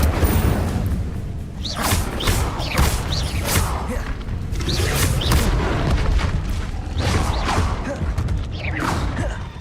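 Incendio fire spell cast repeatedly in Hogwarts Legacy, a series of whooshing bursts and booming thuds at fairly regular intervals over rumbling game combat, moderately loud throughout.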